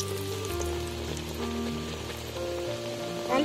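A flipped Mughlai paratha frying in hot oil in a kadai, giving a steady rain-like sizzle and spatter that stays close and constant, with a low hum under it.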